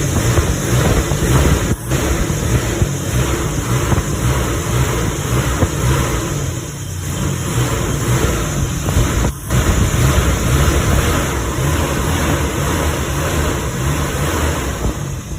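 Toyota Kijang 7K carbureted engine fitted with a Shogun CDI upgrade, idling and running steadily with a continuous, loud mid-range hum, close by, with no talking.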